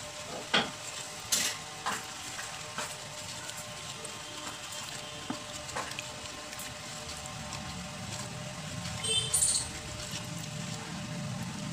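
A spoon stirs detergent powder into a mug of water, giving soft swishing and scattered light clinks against the mug, close and fairly quiet.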